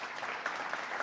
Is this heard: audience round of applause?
yes